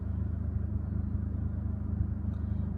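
Manual-transmission car pulling away from a stop, a steady low engine rumble close by, fairly quiet and even throughout.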